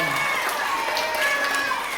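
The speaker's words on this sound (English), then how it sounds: "how about a big round of applause for Brooke?" Campground audience at a stage hypnosis show clapping and cheering for a participant, a steady mix of applause and voices that continues evenly throughout.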